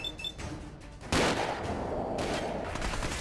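Turrets open fire in the video game Fallout 4, and after a quieter moment a loud, sustained barrage of rapid shots starts abruptly and keeps going.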